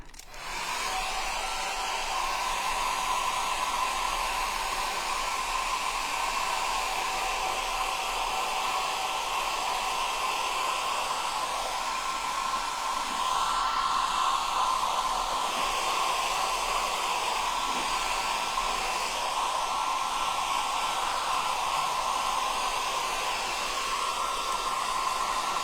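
A hair dryer blows a continuous, even whoosh with a steady whine, drying layers of paint on a textured wall, close by and unbroken for the whole stretch.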